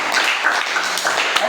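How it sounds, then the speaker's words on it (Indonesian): A class of children clap their hands together in a classroom, a steady dense patter of many small claps that continues evenly throughout without a break. "Tepuk tangan"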